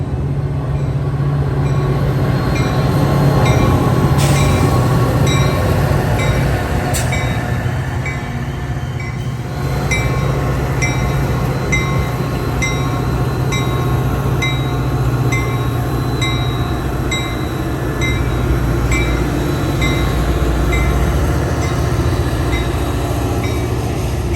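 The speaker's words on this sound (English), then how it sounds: "BNSF train number 1235 2R is now arriving." A BNSF train pulls into a suburban commuter station platform, a steady close rumble of railcars and rolling wheels with faint squeals and clicks running throughout, no talking.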